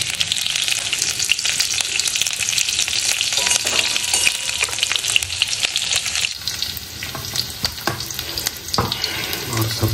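Cumin, garlic and green chili sizzle and fry in a hot pan for a potato chokha, a steady loud crackling hiss with stirring scrapes, with a brief lull partway through and no talk.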